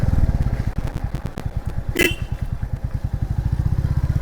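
A motorcycle engine runs steadily up close on the ride back, its even, throbbing putter continuous throughout, with a brief scrape or thump midway.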